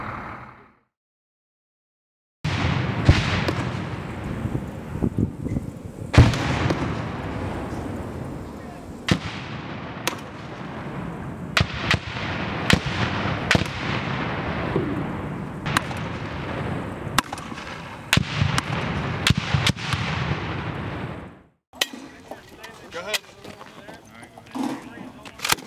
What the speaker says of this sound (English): We deployed with these weapon systems, the M32 and the 203s, and as well as the Mark 19s.